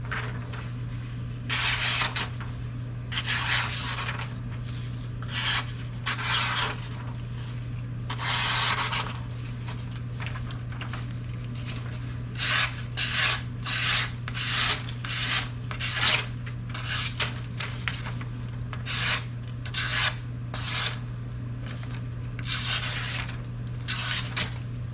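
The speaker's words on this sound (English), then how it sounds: "This blade really does well with a 600 grit stone." A Kunwu Chad knife with a PM60 steel blade is sharpened on a 600 grit whetstone, giving steady rhythmic rasping strokes over a constant low hum, close and moderately loud, with no voices.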